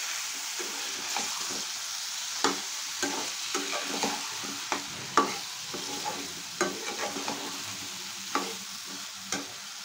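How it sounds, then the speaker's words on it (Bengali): Taro being sautéed with spices in a pan over a low gas flame gives a soft steady sizzle, broken by frequent sharp scrapes and knocks of a spoon stirring at an irregular pace. "গ্যাসের ফ্লেমটা লো করে এইভাবে আমি একটু কষিয়ে নিচ্ছি"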